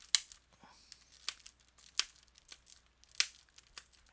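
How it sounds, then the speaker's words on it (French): Plastic wrap is peeled and torn off a boxed Harry Potter film edition, with sharp crinkles and tearing bursts at close range, scattered irregularly over a few seconds in an otherwise quiet room. "Je vais le déballer, je vais vous montrer l'intérieur du boîtier."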